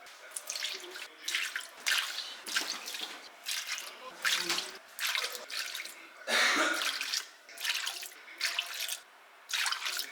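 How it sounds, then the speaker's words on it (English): Room-temperature water is poured into a sourdough mixture in a kitchen, coming in irregular splashing bursts with brief pauses between them, close and moderately loud. "Now we're gonna add 6 cups of room temperature water."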